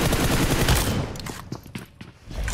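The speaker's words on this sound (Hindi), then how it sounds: "मैंने फायर छोड़ दिया यार" A rapid burst of automatic gunfire in the PUBG Mobile video game, loud and close, breaking off into a few scattered single shots and quieter footstep-like knocks.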